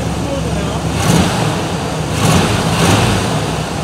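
A 1967 Buick Riviera engine idles steadily after a cold start on a fresh battery, a low continuous rumble with a few gentle swells in revs.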